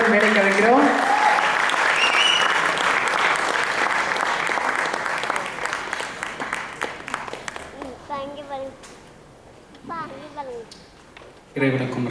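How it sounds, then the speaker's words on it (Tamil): A film audio-launch audience gives loud, sustained applause as a director is called to the stage, dense clapping that thins and fades, with voices speaking through the later part. "அவர்களை நல்ல கைத்தட்டுடன் மேடைக்கு அழைக்கிறோம்"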